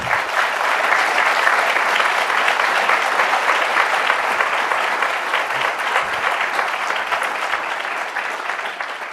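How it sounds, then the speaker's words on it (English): A panel-discussion audience applauds at an evening science talk on genome editing and programmable medicine, with sustained dense clapping that holds steady and then tapers slightly, with no speech over it. "I think our panelists deserve a round of applause."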